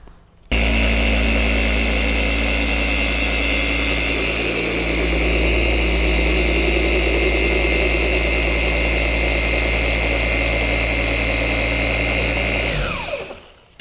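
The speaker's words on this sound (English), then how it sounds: "I want to quickly polish this guard here now to see how we go there." A Zentool 21E2 polishing machine whirs continuously with a steady mid-pitched motor drone while buffing a car guard, starting abruptly and winding down at the end, with no talking.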